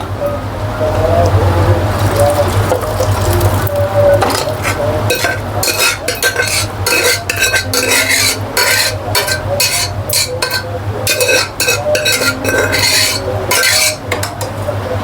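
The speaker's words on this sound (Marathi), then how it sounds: "हे सगळं ह्याच्यात टाकायचं आणि चांगलं मिक्स करून घ्यायचं वितळेपर्यंत गूळ" Puran filling of cooked lentils and jaggery stirred in a hot kadhai, a low hum beneath a quick series of loud metallic scrapes and clinks from the spoon against the pan, close up, with no voices.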